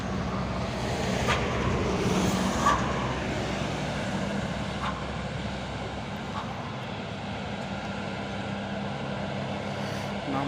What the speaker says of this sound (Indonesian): Ada truk tronton Soren dan truk Hino menurun.